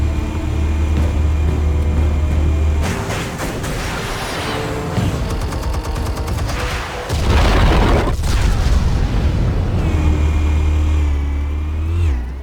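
Explosives detonate in Telltale's Batman, heavy booms and rumbling blasts rolling through a loud game scene, with engine-like roars and debris crashing between deep low thuds, no talking over them.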